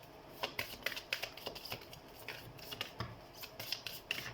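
Tarot cards being shuffled during a reading, heard as quiet, rapid riffling and rubbing bursts in an irregular rhythm, close by and soft.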